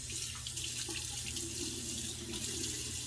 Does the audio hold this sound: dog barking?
no